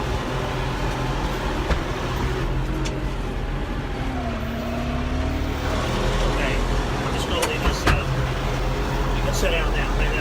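A farm tractor engine runs steadily after being shifted into a higher gear while feeding hay, a continuous close low rumble with a rising whine partway through and occasional knocks, and people talk over it.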